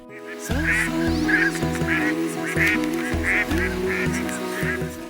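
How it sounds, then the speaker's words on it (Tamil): Northern pintail ducks, winter migrants from Europe, call at Pulicat Lake in a noisy flock, with repeated nasal honking and quacking that overlaps in bursts throughout and comes from close by. "ஒவ்வொரு ஆண்டும் ஐரோப்பிய நாடுகளில் இருந்து இங்கு வரும் ஒரு பறவைதான் நார்த்தன் பென்டெயில்."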